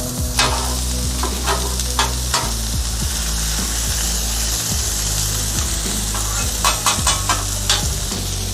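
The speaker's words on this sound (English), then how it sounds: "let's dump on our onions. And again, these are red and Vidalia onions" Red and Vidalia onions fry in a pan with a constant loud sizzle, punctuated by sharp scraping and clattering of a spatula stirring them, close by and without talk.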